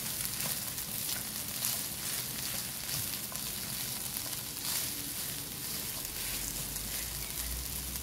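Sizzling fried rice made from leftover rice with garlic, stirred around a hot pan, a steady close crackle and hiss running continuously with soft scraping and no talking.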